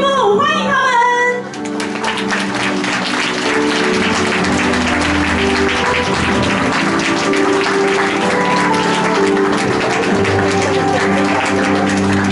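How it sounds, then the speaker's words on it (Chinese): Wedding guests applauding the bride and groom, sustained clapping from a crowd that swells in after a brief musical opening and continues over loud background music to the end. "现在让我们掌声欢迎他们踏出人生中崭新的第一步"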